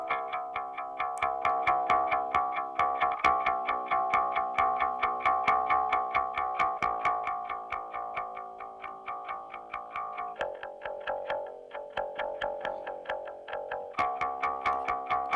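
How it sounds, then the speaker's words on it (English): Bass guitar track played in GarageBand with a heavy distortion effect, a loud, gritty repeated line of evenly plucked notes with rich overtones, shifting pitch a few times, heard alone without talking. "Add some distortion to this track."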